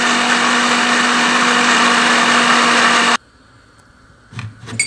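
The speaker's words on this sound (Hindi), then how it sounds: "अब हम इन प्याज को ब्लेंड कर लेंगे।" A blender whirs loudly and steadily as it purées fried onions, then cuts off abruptly, leaving faint clinks and knocks from the jar.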